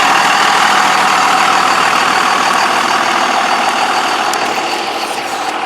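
Cummins diesel truck engine pulling a trailer on the highway, a loud, constant heavy drone with steady road noise that eases slightly near the end.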